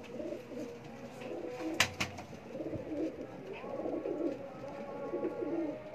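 Pigeons on a rooftop loft near Sheikhupura coo in low, soft murmurs that continue through the clip, with a few sharp flutters or knocks near the middle and no talk.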